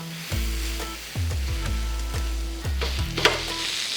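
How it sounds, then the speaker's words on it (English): A meatball and tortilla sizzle on a hot griddle as a smash burger taco is pressed down, a loud close frying hiss with repeated rhythmic scraping and pressing thumps, no voices. "We're gonna put our tortilla, and we're just gonna press down. And that's literally gonna cook in just a few seconds."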